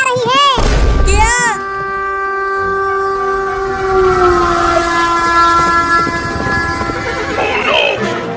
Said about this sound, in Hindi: आगे से ट्रेन भी आ रही है